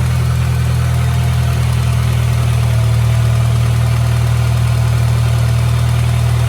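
A freshly installed car engine idles steadily with a deep, constant low hum and slight vibration, close by and uninterrupted, with no voices.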